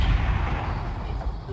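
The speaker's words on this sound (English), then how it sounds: "Oh, I shot him!" Gunfire in the Fortnite video game, a loud low-heavy burst of shots with booming weight across the short span, mixed under game ambience and voices.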